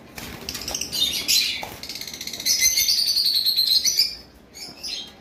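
Green Fischer's lovebirds in a bird shop chirp and chatter in shrill, overlapping high calls, with fluttering wing flaps, loud and close.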